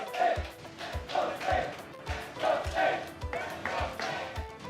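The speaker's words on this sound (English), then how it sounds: "You can hear the Let's Go Slate sneaking into our mics." Esports grand-final crowd chanting 'Let's Go Slate' in a rhythmic call, with claps or stomps on each beat, heard fairly faint and distant behind the broadcast.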